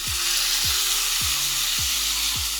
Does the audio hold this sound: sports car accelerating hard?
no